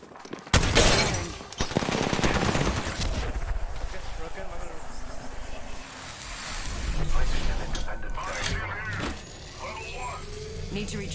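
Video game gunfire, a burst of loud overlapping shots up front followed by continued rattling fire and rumbling, with a voice speaking through parts of it.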